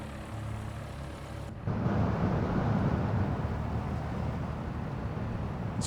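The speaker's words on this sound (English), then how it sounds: "that way we can hear the beautiful sound of that Lycoming engine" Lycoming piston engine of the AirfoilLabs Cessna 172 in X-Plane 11. A steady propeller drone jumps suddenly louder partway through and holds as a continuous rumbling cockpit roar.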